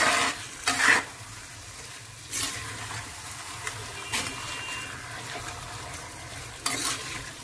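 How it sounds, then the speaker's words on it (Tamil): Mutton stirred and fried in a pan for a thanni kulambu, with a constant sizzle and intermittent scraping, clattering stirring strokes against the pan, close and moderately loud, no talking. "மட்டன் ஆட் பண்ணிக்கலாம். நல்லா கலந்து விட்டுக்கலாம்."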